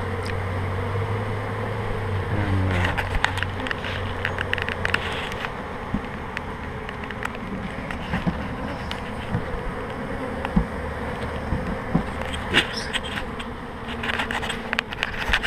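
A honey bee swarm buzzes in a dense, continuous drone, with individual bees passing close by and occasional louder zips and knocks over roughly fifteen seconds.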